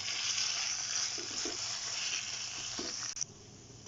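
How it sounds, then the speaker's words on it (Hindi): Minced meat keema frying in ghee for a karahi dish, giving a soft, steady sizzle with faint stirring scrapes. "अब ये जो घी इसके अंदर मिक्स है उसको हम थोड़ा सा भून के"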